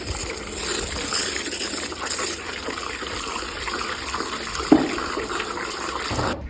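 Water sprays from a hose to shower a pony outdoors on a hot day, a steady hissing gush running throughout at moderate loudness, with a brief knock partway through.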